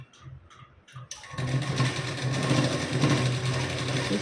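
An electric sewing machine stitching a lehenga blouse: a few soft clicks and fabric handling, then a steady, fast, close-up mechanical whir of continuous stitching.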